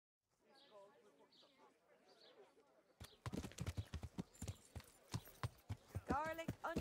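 Horse hooves clip-clopping at a steady riding pace in the video game Kingdom Come: Deliverance, starting abruptly and continuing loud and rhythmic, with someone talking before and over the hoofbeats.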